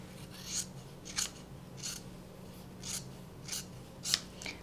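Sharp scissors snip through fabric about seven times, each crisp cut close and distinct against a quiet background.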